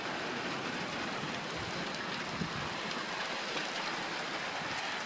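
Steady rain pours down during a June storm, a dense even hiss with no breaks, heard alone and fairly close for the whole stretch.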